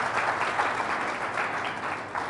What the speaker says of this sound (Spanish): Fuertes aplausos al Señor y Salvador Jesucristo por su amor